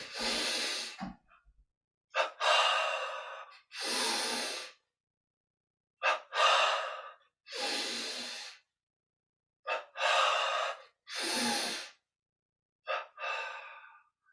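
Double inhalations in a Kriya Yoga breathing exercise: a series of sharp, close, audible breaths through the nose and mouth, each a quick two-part intake, separated by silent pauses.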